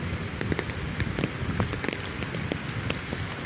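Steady rain falling at an outdoor work site, a dense continuous patter of drops striking surfaces close by, with no voices.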